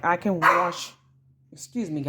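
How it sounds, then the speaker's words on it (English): A pet dog barks in a home, a few sharp close barks mixed in and around a woman's speech, with a short quiet gap between bursts. "That's my dog"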